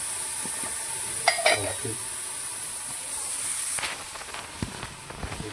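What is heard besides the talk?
food frying and sizzling in oil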